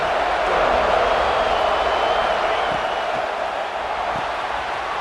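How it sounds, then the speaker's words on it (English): A packed stadium crowd at Death Valley roars in College Football 26. The steady, dense crowd noise runs evenly through the whole stretch with no clear peaks. "This crowd ready to make its presence known."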